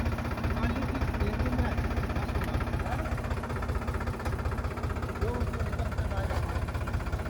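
A tractor engine runs steadily while being readied for sowing a castor field, a low, rhythmic diesel chug that thumps evenly and close, with faint outdoor noise around it.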